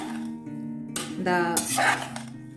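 A metal utensil stirs and clinks against a pan while barnyard millet biryani ingredients are stir fried, giving ringing metallic scrapes and knocks up close, with a faint voice in the background.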